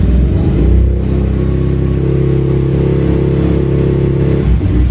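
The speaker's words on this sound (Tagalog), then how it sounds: "I-revolution ko o pipigayin ko tong throttle" Yamaha TMAX scooter engine held at raised revs with the throttle opened, a loud, close, steady mid-pitched drone that dips and settles near the end.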